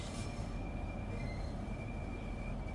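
A simulated train running on the South Eastern High Speed route in Train Sim World 3, a faint steady rumble of rolling wheels with a thin high squeal drifting above it.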